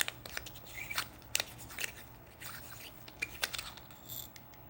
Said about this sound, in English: if you twist here, you can actually take the machine apart